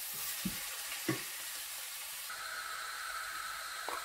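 Grated carrots and rice fry together in a pot, giving a steady soft sizzle with a couple of faint stirring knocks, quiet and without talking.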